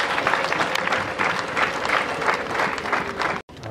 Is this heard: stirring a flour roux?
no